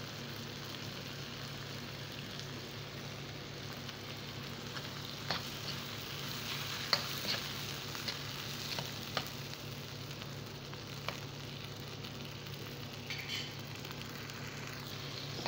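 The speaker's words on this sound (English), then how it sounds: "Allow it to fry before you start seasoning it." Cabbage frying in a pan over a fire, a steady soft sizzle with a few sharp crackles and pops, continuous and fairly quiet, no voices.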